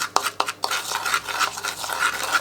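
Brown sugar and cardamom being mixed in a bowl, with a few sharp clinks of a spoon at first, then a steady close scraping and stirring rhythm, with no talking.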